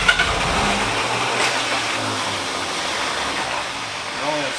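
Abandoned Buick engine, unrun for over forty years, cranking and sputtering as it tries to fire, a steady loud churning drone with an uneven rhythm, heard close up without talk.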